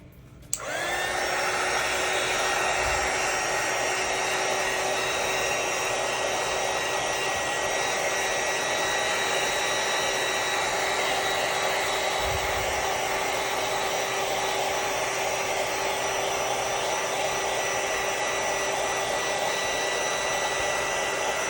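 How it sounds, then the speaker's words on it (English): Heat gun blowing hot air over vinyl on a tumbler, a loud, steady whooshing roar that starts abruptly and runs unbroken throughout. "going to take my heat gun and dry this up just a bit more"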